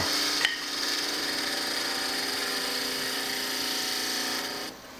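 A skew chisel shaving a wooden pepper mill spinning on a lathe gives a steady, smooth hiss of cutting with a constant motor whine, starting with a brief scrape and tapering off near the end.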